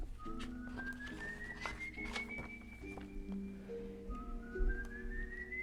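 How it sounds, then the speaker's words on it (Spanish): Eerie whistling for the ghostly Silbón legend: long rising whistled notes repeat over a low background, faint and echoing, with brief bird-like chirps and soft thuds. "los silbidos que estamos escuchando de fondo"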